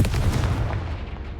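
A Confringo fire spell from Hogwarts Legacy bursts in a loud, booming blast with a heavy low-end thump, then rumbles and decays over about a second and a half.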